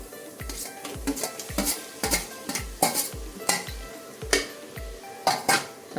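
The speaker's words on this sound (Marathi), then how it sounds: "आता परत परतून घेणार आहोत." A spatula scrapes and knocks rhythmically against a pan as onions and tomatoes are sautéed for biryani, in regular stirring strokes about twice a second over a faint sizzle.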